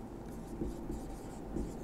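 A pen or marker moves across a surface, writing out a solution by hand with a soft, close, continuous scratching and a few light taps as strokes begin.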